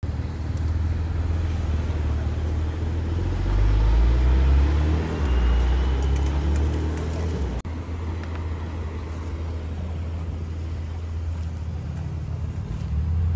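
A Porsche drives past along a street in Luxembourg, its engine a loud, low rumble that swells and fades over steady traffic noise, with no voices.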